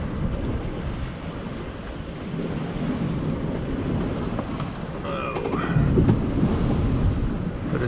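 Rough, choppy seas roll and break around a small sailboat under way offshore, heard as a continuous broadband wash of surf mixed with gusting wind buffeting the microphone, swelling louder toward the end.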